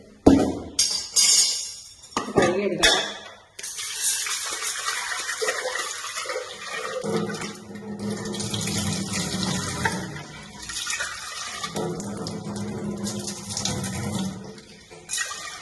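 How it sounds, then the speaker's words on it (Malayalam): Lentils (parippu) being rinsed under a running tap, with splashing water in a bowl, a few clanks and knocks at first, then a steady close stream of running water that lasts to the end. "ശകലം പരിപ്പേ ഇടുന്നുള്ളൂ. അതൊന്ന് കഴുകിയെടുക്കാം."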